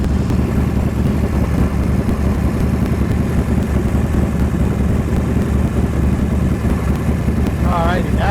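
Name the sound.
Harley Davidson motorcycle engine running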